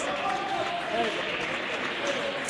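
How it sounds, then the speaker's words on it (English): Fans in the stands applauding at a money pool match, a steady wash of distant clapping filling the clip from start to end, with faint commentary over it. "And gets a round of applause from the fans in the stands who did pay to watch him"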